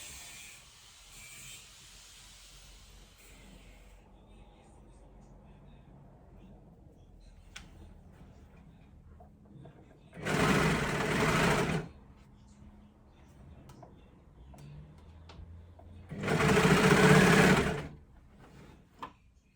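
A sewing machine stitches French terry fabric in two loud, steady whirring bursts of about one to two seconds each, separated by quiet handling sounds.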